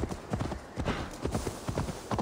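Rhythmic hoofbeats of a horse at a gallop in the video game Assassin's Creed Valhalla, quick repeated thuds in a steady pattern, fairly close and clear.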